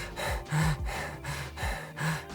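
A voice imitates strained, shallow breathing: quick rasping inhales and exhales repeating in a tight rhythm, close and breathy.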